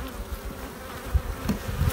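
Honey bees swarm around an opened hive low on honey, their hungry colony producing a steady, close buzzing drone with a few louder passes near the end and no talking.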